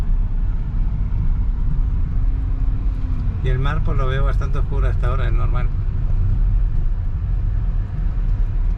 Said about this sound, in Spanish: Y yo voy a parar aquí el carro